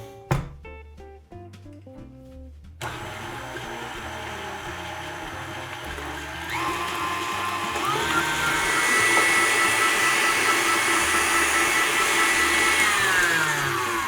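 Electric mixer beating four eggs, soft butter and brown sugar in a home kitchen, a steady continuous motor whir that shifts higher in pitch partway through and keeps running without pause.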